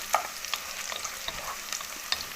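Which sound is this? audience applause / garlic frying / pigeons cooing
garlic frying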